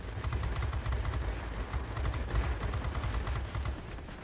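Spitfire XVI machine guns hammering at an IL-10 in World of Warplanes, a dense, rapid, continuous burst of loud gunfire with engine roar underneath.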